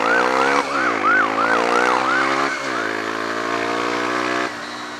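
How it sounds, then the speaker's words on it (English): An ambulance siren wails nearby in a rapid, repeating up-and-down pattern, loud and steady over a low motorcycle engine drone. "Ambulance."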